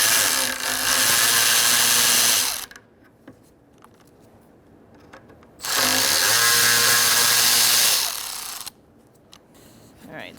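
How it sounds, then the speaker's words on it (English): A power tool spinning a T30 Torx bit to loosen intake manifold bolts on a 2000-2007 Ford Taurus 3.0L V6, two loud, close whirring bursts of a few seconds each, separated by a quieter pause. "Using a T30 Torx bit, I'm going to loosen up these bolts"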